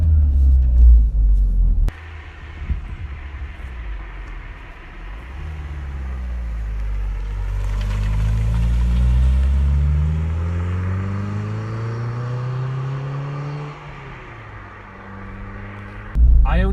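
A 2005 Renaultsport Clio 182's engine on the road, a close low rumble that rises through the gears and eases off, with steady interior drone and no talk.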